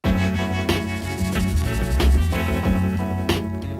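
Roland SP-404 sampler playing a beat with rattlesnake and guitar tremolo samples, dense rhythmic loud music with repeated percussive hits and sustained tonal layers, no voices.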